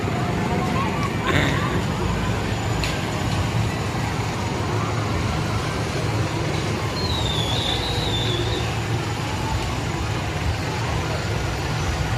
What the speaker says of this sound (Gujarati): નીચેથી રેલગાડી પસાર થઈ રહી છે